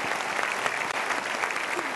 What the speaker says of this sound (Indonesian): Cirebon perlu kasih tepuk tangan